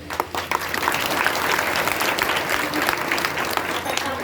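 An audience at a Vitthal Rukmini temple kirtan during a Harinam Saptah bursts into loud, sustained applause, dense clapping from a crowd that runs steadily throughout.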